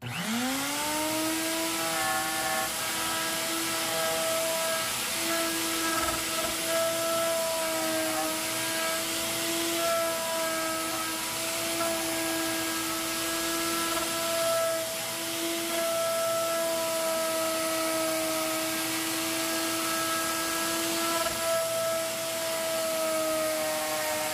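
A wood router (tupia) fitted with a router bit spins up and then holds a loud, steady, high whine with strong harmonic tones, running continuously and close for over twenty seconds without speech.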